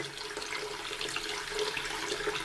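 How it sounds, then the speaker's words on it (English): Tap water runs steadily into a sink while preparing for wet sanding of a model kit with a sanding block and dish soap, a soft, even splashing hiss that stays constant throughout. "That's probably enough water."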